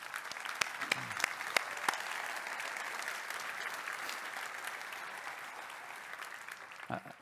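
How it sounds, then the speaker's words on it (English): A large conference audience at DrupalCon Barcelona applauds, steady distant clapping filling a big hall for several seconds, fairly faint, with a few louder claps near the start. "let's give them a big round of applause"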